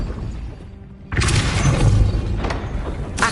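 Depulso spell cast in the video game Hogwarts Legacy: a sudden loud blast with crashing, shattering debris after a quieter lead-in, then a sustained rumbling clatter and a second impact near the end.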